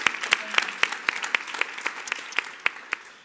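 A small audience claps after a presentation, each clap sharp and distinct in a fairly regular rhythm, a few hands applauding for several seconds.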